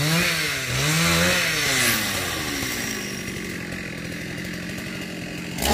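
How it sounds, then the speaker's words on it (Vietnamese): A chainsaw cuts a large branch of a big Sao tree in Vietnam's Mekong region, revving loud and close with rising and falling pitch before settling into a steady buzzing grind. "ông nhờ bà cô Hoa cưa một nhánh ở phía trong này nữa"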